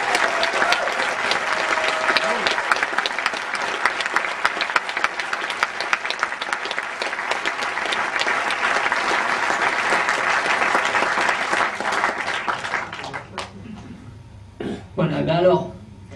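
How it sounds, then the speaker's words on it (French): A festival audience at the Strasbourg European Fantastic Film Festival awards ceremony breaks into loud, continuous applause from many hands, which dies away near the end as a presenter's voice returns over the hall. "on peut vraiment les applaudir très fort pour le travail"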